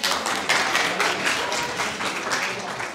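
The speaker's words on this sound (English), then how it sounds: "Round of applause. Come on." A short burst of lively applause from a crowd at a soccer club summer launch as a prize winner is celebrated, steady close clapping with a few scattered claps on top.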